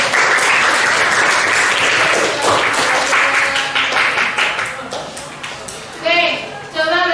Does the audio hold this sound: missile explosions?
no